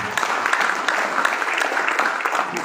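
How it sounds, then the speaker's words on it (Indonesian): An audience claps together in steady, dense applause that fills the room at close range, loud and even from start to finish. "Aplaus dulu lah untuk Anda."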